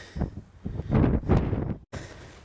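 Wind buffets a microphone on the hilltop of British Camp in the Malvern Hills, making loud, gusty roaring rumbles that swell and fade before a brief cutoff, then a steady rush.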